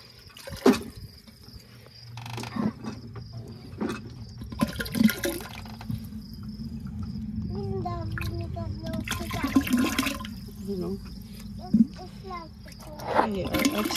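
Water splashes and trickles steadily into a pot for homemade root beer, with scattered clinks and a voice speaking now and then over the pouring.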